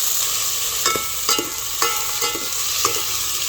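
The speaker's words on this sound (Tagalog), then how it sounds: "Ilalagay ko na po itong hipon. Atin na po igigisa." Shrimp sautéing in a pan for a Filipino mung bean stew, a steady hiss of frying with repeated scraping clicks of a spoon stirring at a regular beat, close and alone with no talk.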